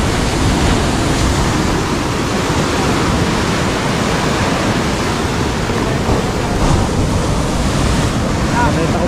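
Big ocean waves roll and crash in a loud, unbroken roar of surf, heavy rumbling wash buffeted by wind against the microphone, close and overwhelming with no clear pauses.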